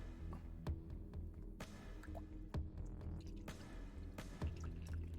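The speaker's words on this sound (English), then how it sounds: "Pour this into my glass." Water poured from a bottle into a drinking glass indoors, a faint, close trickle with small drips and glugs, quiet and with no voices.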